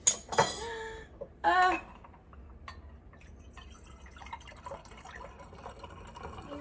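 Homemade strawberry vinegar trickles and drips into a small sterilized glass bottle, with a few clinks of glass at first, then a quiet, continuous gurgling pour.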